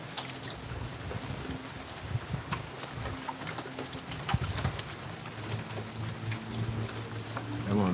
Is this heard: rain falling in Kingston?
yes